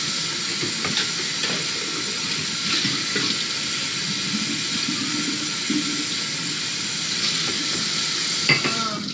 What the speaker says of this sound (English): How many cups have I washed?